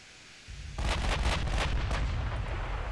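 Heavy naval guns boom from warships in the naval battle game Ultimate Admiral: Dreadnoughts, starting after quiet then rolling into a dense, loud barrage of overlapping blasts and rumbling salvos.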